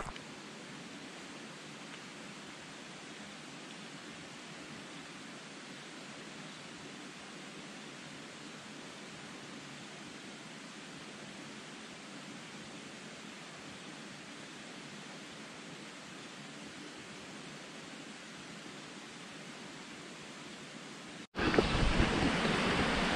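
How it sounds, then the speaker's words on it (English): Steady, broad rushing of water from a distance, constant and fairly soft, with a brief louder burst at the very end. "I hear water and a lot of it"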